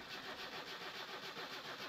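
A car engine is cranked and catches, then runs with a quick rhythmic chug. The sound is fairly close but quiet.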